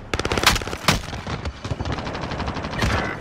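Rapid video game gunfire crackles in dense bursts for about three seconds, with sharp loud shots near the start and a steady stream of rounds after.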